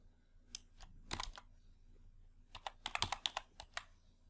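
Keystrokes on a computer keyboard while entering a word into a spreadsheet criteria box, two short bursts of quick, crisp clicks separated by a pause, close and fairly quiet with no speech.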